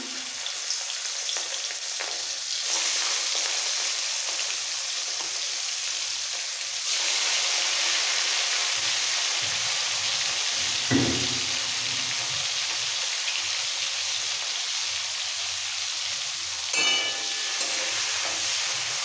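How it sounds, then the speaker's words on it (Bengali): Raw prawns coated in salt and turmeric sizzle steadily in hot oil for a Bengali potol chingri dish, a loud continuous frying hiss with a few brief bursts and no talking. "নুন হলুদ দিয়ে মাখানো মাছগুলো, কাঁচা মাছগুলো সব ভাজার জন্য ছেড়ে দিলাম।"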